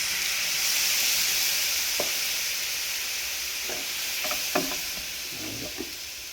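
Milk is poured over bread toasting in a hot pan on a low flame, giving a steady loud sizzle and hiss with a few soft scraping stirs and clicks scattered on top.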